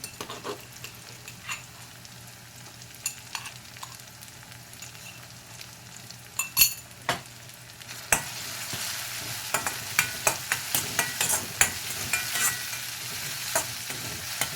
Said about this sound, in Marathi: सर्व भाजून घ्यायचं आहे छान कांदा टमॅटो आणि लसूण